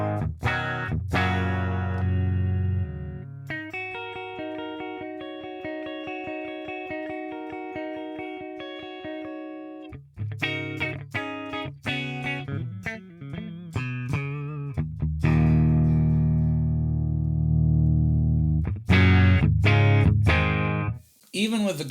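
Clean, chiming electric guitar chords and single notes ring out through the Neural DSP Archetype Abasi plugin's clean amp head, with sustained tones, pauses, and brighter strummed passages later on.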